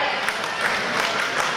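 Wrestling crowd cheering for Delirious, a dense, steady wash of clapping and crowd noise filling the arena without letup.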